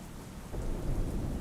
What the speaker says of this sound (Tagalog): dito na nga pumatak ang ulan